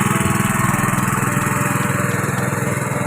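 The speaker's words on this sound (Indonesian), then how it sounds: "ini mesin pemompa air ini dulur ya, yang diambil dari lubang atau dari sumur bor" A small engine-driven water pump runs steadily as it draws water from a bore well on a corn farm, a close, loud, even mechanical drone with a fast pulsing throb and no speech.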